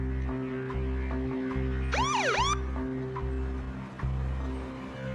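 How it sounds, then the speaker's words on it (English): A police car siren sounds at close range, alone and loud: one short burst of rising and falling wails over a steady low engine hum. "I hit the siren to try and get her attention."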